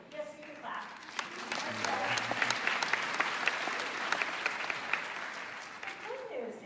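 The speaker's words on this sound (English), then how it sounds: "yes, you can clap" An audience claps steadily for several seconds at a talk on education, a dense sustained applause with a few sharp individual claps standing out, fading slightly at the end.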